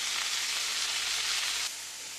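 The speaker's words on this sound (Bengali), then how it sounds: "আলুগুলো দিয়ে দিলাম, হয়ে গেল। এখন আলু ভাজা হয়ে যাবে" Potatoes frying in a pan, a bright continuous sizzle that dies down abruptly near the end to a softer crackle, close and alone.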